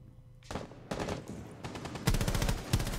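Gunfire in the video game Rainbow Six Siege, a few separate shots followed by a rapid automatic burst, close and sharp at moderate loudness.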